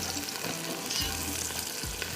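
Onions browning in hot oil in a pan with roasted cumin, for a baked tikka biryani, give a continuous loud sizzle and crackle, broken by a couple of low scraping stirs.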